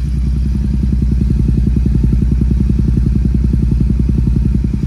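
Close, loud idle of a Royal Enfield GT-650 with an aftermarket Red Rooster exhaust, a steady rapid low thumping beat with slight crackle, running alone without talk.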